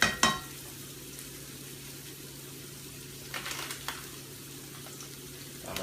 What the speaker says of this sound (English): you can see the garlic is starting to get brown a little bit.